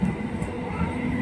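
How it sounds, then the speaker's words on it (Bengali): Train pulling out of a station, heard as a faint, steady rumble of rolling rail cars under a low background. "এই যে ট্রেন ছাড়ছে"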